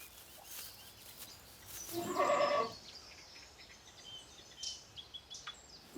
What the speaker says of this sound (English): This bleating was recorded when a goat could see its food arriving and was experiencing a positive feeling.